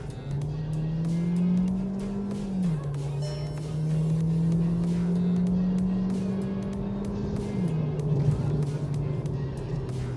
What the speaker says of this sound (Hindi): तो ये जो वोकल है इंजन रेव के, जो आरपीएम ऊपर नीचे होते हैं